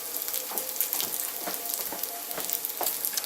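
Meat browns in a small cast iron skillet for a chicken carbonara meatloaf, giving a steady, close, bright sizzle with soft periodic stirring scrapes and no talk.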